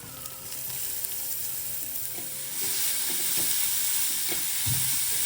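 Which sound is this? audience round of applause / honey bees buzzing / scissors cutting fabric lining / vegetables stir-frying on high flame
vegetables stir-frying on high flame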